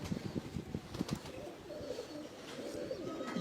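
Pigeons on a rooftop coo softly in repeated low throaty calls, faint and close, with light rustling in between.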